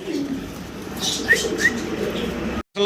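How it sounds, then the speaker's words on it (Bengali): A pair of Stasser pigeons coo softly nearby, a few low murmuring calls over a steady background hum, with faint chirpy notes in between and a brief dropout near the end. "খুব চমৎকার প্রিন্টের ভিতরে একজোড়া চমৎকার স্টেসার কবুতর"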